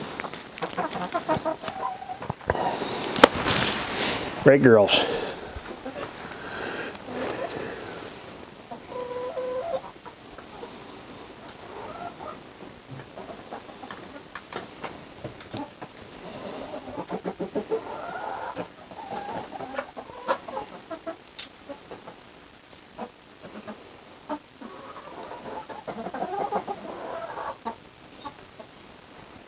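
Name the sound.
chickens clucking in a coop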